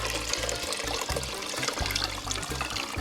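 Continuous splashing and gurgling of 1.5 liters of filtered water being poured into a soup pot, close and steady, with a low rumble underneath and no voices.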